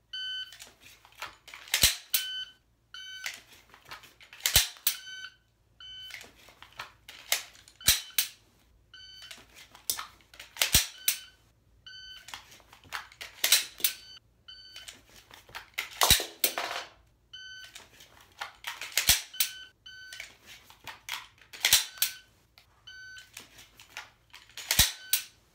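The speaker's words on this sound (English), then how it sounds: "grab a new magazine, shove it in the gun, hit the slide release, and present the gun and fire the pistol." Pistol dry-fire reload drill: about eight sharp shot-timer beeps, each followed by quick metallic clacks of a magazine change and slide release, then a snap of the dry-fired pistol, repeating in a steady rhythm with no talk.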